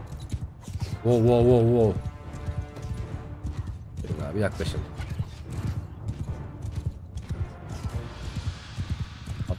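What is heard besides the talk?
horses galloping in the video game Mount & Blade II: Bannerlord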